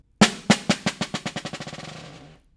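A single snare drum stroke played with too loose a grip, the stick bouncing in a fast run of about fifteen rebounds that speed up and fade into a short buzz, close and alone.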